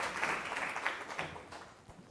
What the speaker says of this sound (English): let's give another applause to the both specialists